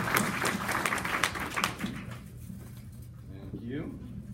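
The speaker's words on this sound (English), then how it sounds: "it is okay to clap for him" Audience clapping at a talk on concussion assessment, a burst of applause for roughly two seconds that fades out, followed by a voice and quieter room sound.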